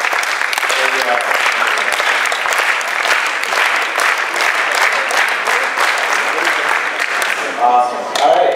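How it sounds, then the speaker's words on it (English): Audience at a tech startup demo day practicing a slow clap, which quickly becomes sustained dense clapping throughout, loud and close, with voices mixed in near the end. "So let's practice slow clap, guys."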